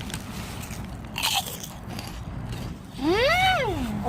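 A crisp crunch of a seasoned cheap Korean snack being bitten sounds up close, followed a moment later by a short rising and falling hummed vocal sound.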